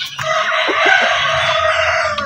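A native rooster crows loudly and close by in one long, strained call during rainy weather, with faint clucking from other native chickens underneath.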